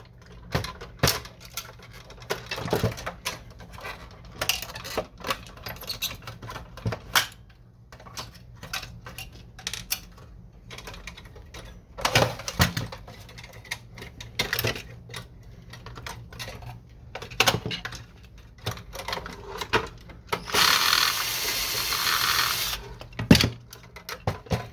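Screws are taken out of an Epson WF-2630 printer during disassembly, with scattered small clicks, ticks and plastic knocks close by and a brief rough scraping burst near the end, with no talk.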